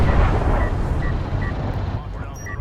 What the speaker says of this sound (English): I love the sound of the turrets in the shallows, too